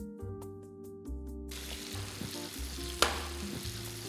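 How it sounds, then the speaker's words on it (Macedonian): Vegetables sizzle and stew in a pan, a steady close frying hiss that takes over after a short, quieter tonal opening, with a brief sharp clink partway through. "додека зеленчукот си динста и си се пржи"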